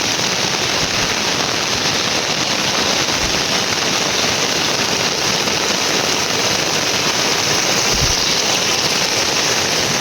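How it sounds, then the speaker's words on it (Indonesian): Heavy rain pours down outdoors in a dense, loud, unbroken roar, with a couple of dull thumps buried in the downpour. "Hujannya semakin deras nih."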